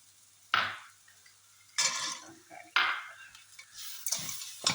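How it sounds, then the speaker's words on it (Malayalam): Cooked rice tossed into a masala with cashews in a pan, heard as a few separate bursts of scraping and stirring, close and fairly clear, with quiet gaps between strokes. "ഇതിലേക്ക് ചോറ് മിക്സ് ചെയ്ത് കൊടുക്കാം"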